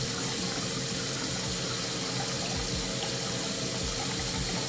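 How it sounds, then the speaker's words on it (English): Tap water runs steadily into a sink as a makeup brush is rinsed, a continuous close splashing rush with no talk. "and then give it a good rinse"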